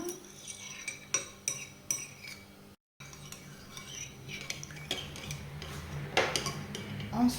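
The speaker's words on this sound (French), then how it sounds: "à nos 170 g d'eau, on va venir mélanger notre levure" Yeast being stirred into warm water in a bowl for pizza dough, heard as a string of light spoon clinks and scrapes against the bowl with a brief dropout, close and fairly quiet, without speech.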